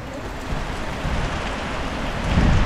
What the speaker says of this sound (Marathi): आणि जोरदार पाऊस आला